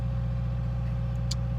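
A car engine back up and running, idling with a steady low rumble close by, a brief faint click near the end and no talking.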